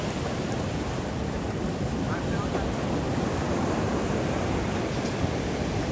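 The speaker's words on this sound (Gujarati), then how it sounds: "મોજા જો કેવા આવે." Ocean waves break on a beach in Goa as a steady, loud roar of surf mixed with gusty wind buffeting the microphone, with no distinct pauses between the waves.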